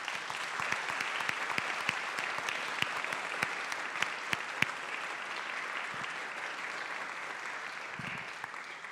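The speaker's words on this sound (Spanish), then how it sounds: "Un fuerte aplauso, por favor." A forum audience in Mexico City applauds a speaker on climate-related disaster risk, brisk clapping with sharp individual claps standing out, steady and fairly close throughout.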